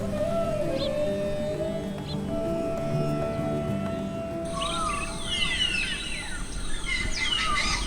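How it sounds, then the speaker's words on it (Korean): Great parrots call in a bai, a grassy, watery clearing in the Congo rainforest, with whistled notes early on, then a burst of overlapping squawks and chatter over a steady bed of forest insects and ambience. "바위의 아침을 깨우는 것은 그레이트 앵무새입니다."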